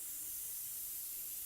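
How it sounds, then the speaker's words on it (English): An airbrush spraying paint gives a steady, even hiss that holds without a break throughout, fairly close and with no voices over it. "But I'm spraying away from me."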